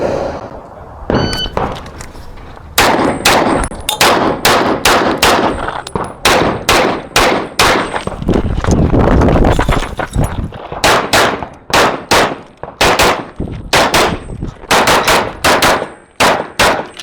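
Pistol gunshots ring out in an open-division USPSA practical shooting stage: loud, sharp reports in fast bursts and rapid strings with brief pauses between groups, close and dominant, with no talking.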